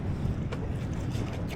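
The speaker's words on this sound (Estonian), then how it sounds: "Ja kaua ei saa, tuul läheb kohe suureks." Strong wind blowing over open water during an inflatable boat and motor outing, a steady loud roar of wind buffeting the microphone with a broad rushing wash and no voices.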